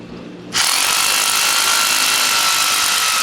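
A power drill starts abruptly and then runs at a steady, loud, high whine, boring bolt holes to fix a lathe to the floor.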